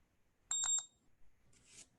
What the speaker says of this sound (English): this 20 should give me 2 quick high beeps